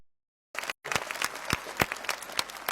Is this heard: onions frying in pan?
no